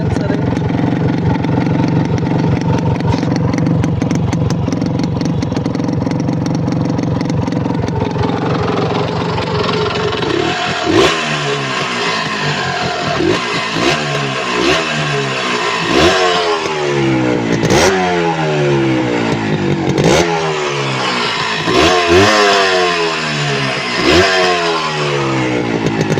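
A 1991 Honda H100S motorcycle engine is heard through its silencer, first idling with a voice speaking over it, then revved repeatedly on free throttle in rising and falling bursts, close and loud.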